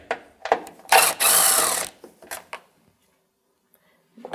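A hand ratchet on a 10mm socket clicks in short bursts while loosening bolts from a plastic undercarriage shield on a Jeep Compass, with a longer rasping run of clicks and scattered isolated ticks.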